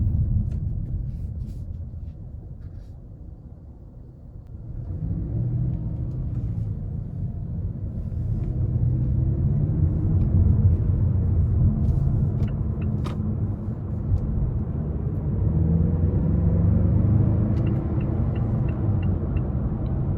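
A 2021 Mazda 6 Carbon Edition's engine drones steadily from inside the cabin while driving, its low rumble rising and falling as the car downshifts, with no talk over it.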